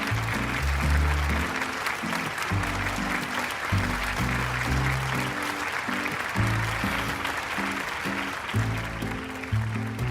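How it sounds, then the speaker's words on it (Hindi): Steady applause from an audience in a Chinese drama scene, continuous dense clapping held at an even level for about ten seconds over rhythmic low music. "इनके लिए तो जितनी बार तालियां बजाई जाए कम पड़ेंगी।"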